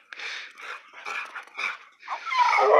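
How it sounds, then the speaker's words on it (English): A dog gives a run of happy, howly grumbles, grunts and whines during play, with short vocal bursts and panting breaths close to the microphone, ending in a longer, higher whine. "he does that howly, grumbly, happy grunt and grumbles"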